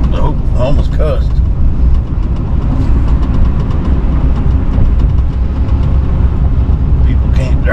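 A car drives into downtown Oklahoma City traffic, its engine and road rumble steady and close throughout, with people talking over it.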